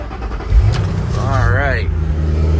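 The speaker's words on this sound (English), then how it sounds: "So we can start her up. See how she starts." A wrecked Ford Mustang with a 4.6 V8 cranks and fires up, then rumbles into a loud, steady idle up close while someone talks over it.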